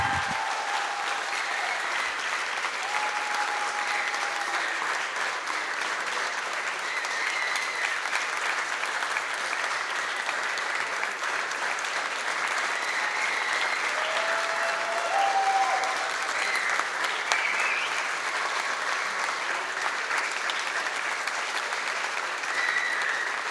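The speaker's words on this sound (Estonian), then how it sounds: "Aga me võime veel ühe suure aplausi teha neile" Sustained applause from a crowd at a youth camp concert-service, a dense, even clapping that carries on for over twenty seconds without letting up.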